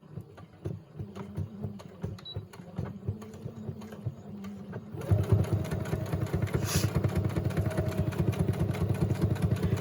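A sewing machine stitches around a tag in a traveler's notebook journal, its motor a steady mechanical whir and rapid needle clatter that starts softer, then runs louder and denser from midway to the end, with no talk.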